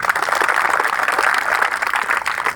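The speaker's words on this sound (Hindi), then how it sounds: "बजाओ ताली" An audience at a motivational speech at CMC claps in a steady, dense burst of applause that fills the hall, with no voices over it.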